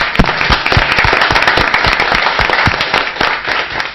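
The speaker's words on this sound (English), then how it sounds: "Well, yes, let's have a round of applause." Loud, close audience applause at a city council meeting, dense steady clapping with sharp individual claps standing out throughout.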